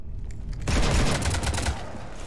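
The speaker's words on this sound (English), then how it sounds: "You want to stop shooting up my ship?" A burst of dense, booming gunfire in Mass Effect 3, shots fired at a ship, starting abruptly and rattling on loudly for over a second.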